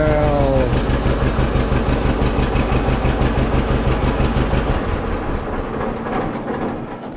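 A Kubota L2501 compact tractor's engine running just after starting, a loud close rhythmic diesel chug that holds steady, then settles lower and a little quieter near the end.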